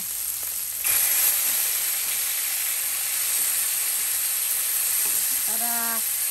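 Sautéed mung beans sizzle and hiss in a frying pan, with a sudden swell of steam and crackle early on and faint scraping from stirring, fairly close.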